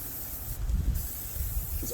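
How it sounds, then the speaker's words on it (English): Aerosol dressing is sprayed onto a car engine bay during detailing, giving a short hissing burst of under a second that rises over a low background rumble. "because I like to just kind of spray it and then I'll level it and spread it around a bit."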